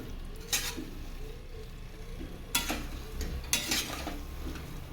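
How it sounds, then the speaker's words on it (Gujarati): Coarse wheat flour sheera with sugar slowly stirred in a pan, soft continuous scraping under a faint sizzle, with three brief bright metallic clinks of the spoon against the pan spaced apart. "ધીરે ધીરે આ રીતે હલાવતા જવાનું એટલે આપણી ખાંડ એકદમ અંદર મિક્સ થઈ જશે"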